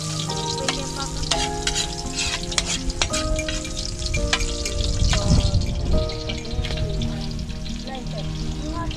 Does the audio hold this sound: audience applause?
no